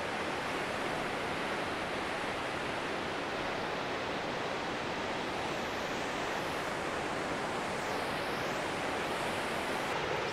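Shell Falls in Wyoming's Bighorn Mountains, running about 3,600 gallons per second, rushes with a constant, broad roar of falling water, steady and unbroken throughout, with no voices.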